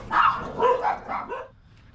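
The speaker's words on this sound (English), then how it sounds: "Sorry, my dogs like to bark." Pet dogs barking in quick succession, a few sharp close barks trailing off into a short whimper, loud and alone.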